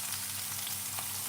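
Garlic, spring onion and white onion fry in a pan with a continuous, close crackling sizzle, briefly and with no voices.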